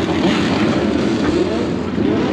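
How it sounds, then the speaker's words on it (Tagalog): Loud, steady engine roar fills the scene with constant broadband rumble, like several motorcycles running close by in busy traffic. "Grabe ang ingay ng mga motor."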